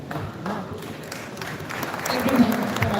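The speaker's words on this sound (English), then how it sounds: "Everyone, give a big round of applause." Audience applause at an expo event, a dense wash of many hands clapping that grows louder toward the end, with speech faintly mixed underneath.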